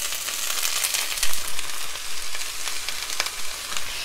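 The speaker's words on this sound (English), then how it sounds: "I've been sauteing these for like 6 minutes" Frozen sugar snap peas sautéing in a skillet over a medium-high burner, a loud, close, continuous crackling sizzle with bursts of popping and occasional stirring, no voices.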